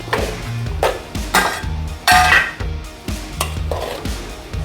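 A ladle stirring jackfruit puzhukku in a metal pot, with repeated scraping and clanking strokes against the pot in an irregular rhythm, close and fairly loud over a faint sizzle.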